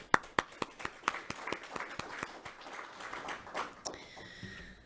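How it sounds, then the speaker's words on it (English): Applause from an audience, a burst of sharp claps that thickens into steady clapping and then fades out, with a brief tone at the end. "just another round of applause"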